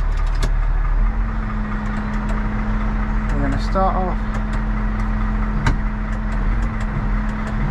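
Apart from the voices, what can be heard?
4x4 vehicle engine revving gently in low range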